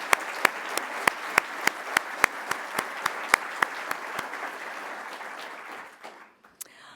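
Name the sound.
audience applause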